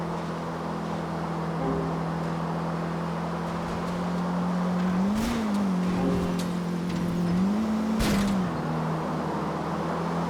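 Car engine in a GTA 4 race during a wall ride: a steady, loud engine drone with two rising-and-falling pitch swells as the car revs, with brief scraping bursts over continuous road noise.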